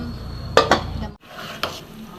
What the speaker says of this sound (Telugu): ఈ రైస్ మొత్తం ఒక సెవెంటీ పర్సెంట్ కుక్ చేసుకోవాలి కాబట్టి మూత పెట్టేద్దాం